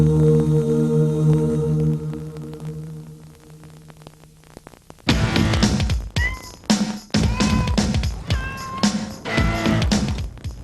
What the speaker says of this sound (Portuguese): Os gatos se comunicam de várias maneiras